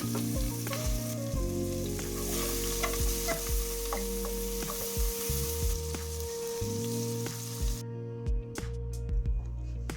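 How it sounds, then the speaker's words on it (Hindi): Onions, green chillies and ginger-garlic sizzle in hot oil while being stirred, with scraping spoon clicks, steady and close. "थोड़ा सा इन्हें फ्राई किया और साथ ही प्याज, हरी मिर्च और लहसुन अदरक शामिल कर दिया"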